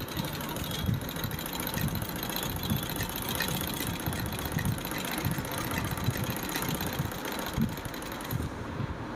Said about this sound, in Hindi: तो ये हमारा लगभग 70 साल पुराना पफ का मशीन था जिसको हमने सर्विस किया है